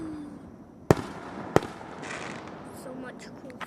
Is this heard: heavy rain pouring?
no